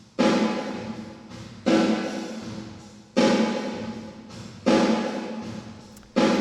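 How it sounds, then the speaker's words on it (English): An Altiverb sample of an L224 digital reverb unit processing dry audio: five strong percussive hits roughly 1.5 seconds apart, each followed by a lush, slowly fading reverberant tail, close and loud with no talking. "put the sample into Altiverb, and played the dry audio through Altiverb."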